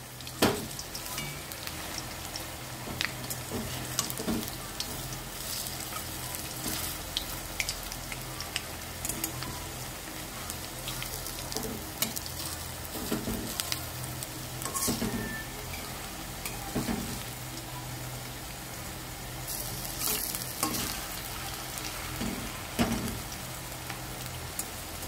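Onion fritters (piyaji) deep frying in oil keep up a continuous bubbling sizzle with crackling pops for a long stretch, near and moderately quiet, with no voices.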